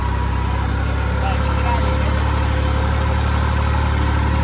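A tractor engine runs in a farm field while the tractor pulls a trolley, giving a steady, close, low diesel drone that holds evenly throughout.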